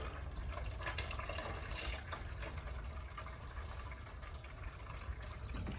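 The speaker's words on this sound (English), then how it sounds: "We have almost a steady stream of water." Water runs in an almost steady stream from a hose into a bucket while a radiant heating manifold is purged, a continuous, even rushing and splashing without air sputters.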